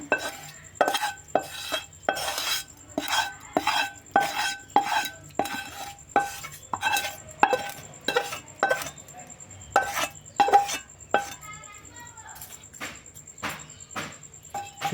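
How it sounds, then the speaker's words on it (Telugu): A spoon is stirred briskly through a brinjal and curd mixture with tempering added, making a rapid, regular series of close clinks and scrapes against a bowl that slows near the end, with no voices. "మొత్తం కలిసేటట్టు తిప్పుకుందాం."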